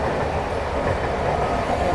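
The Yuva Express, running from Bandra Terminus to Hazrat Nizamuddin, rolls along the tracks in a steady, loud, continuous rumble, with no one talking.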